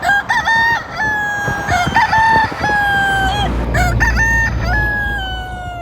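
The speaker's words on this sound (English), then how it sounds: "There's chickens everywhere." Roosters crow repeatedly, several calls overlapping near and far, while hens cluck and a low rumble of background noise runs underneath.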